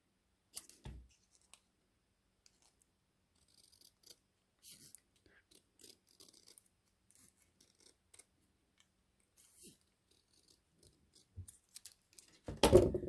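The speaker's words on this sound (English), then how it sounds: "So let's cut this one a little bit." Scissors cutting through card during stamped ocean card crafting, a few short snips and crisp clicks scattered among long quiet gaps, close and faint, with a soft rustle of handling near the end.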